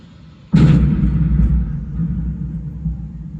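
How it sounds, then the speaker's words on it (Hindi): Mughal cannon fire in the Amer Fort light and sound show booms out as one sudden, loud blast that rolls into a long, deep rumble that slowly fades, with no talking. "उनकी तोपें दिखाई भी देंगी और सुनाई भी देंगी।"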